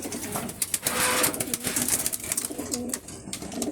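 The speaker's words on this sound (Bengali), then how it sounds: "এখানে অনেক কবুতর" Many racing pigeons coo together in a loft, a dense overlapping burble close by that fills the whole moment, with a faint flutter of wings.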